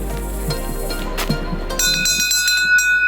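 A bell is struck in Japan, ringing out with a bright sustained metallic tone that lingers over low background noise and a faint rumble.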